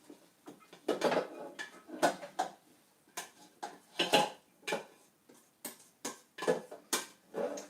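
Metal pot clanks and scraping, clattering knocks while hamburger soup is dumped out of the pot, a series of irregular, moderately close thuds and rattles with no talking.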